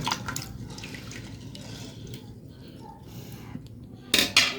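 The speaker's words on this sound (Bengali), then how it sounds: "এই চামচ দিয়ে আমি এটা ইয়া করে নেব একটু লাড়াচাড়া করে নেব সবগুলো একসাথে" A spoon stirs khichuri ingredients in a pot, with soft scraping and light clinks of metal against the pot, ending in a couple of sharp, brighter clanks.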